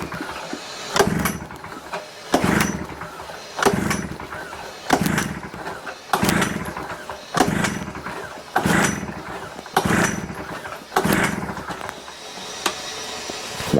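A Tail Gator engine is cranked on choke but never fires: about eight separate cranking bursts, each roughly a second long, come in a steady rhythm with short gaps between them, close and fairly loud, with no speech.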